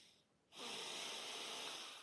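A single tense breath drawn in sharply after a short pause, loud and close, like a forced nasal inhale that holds for over a second.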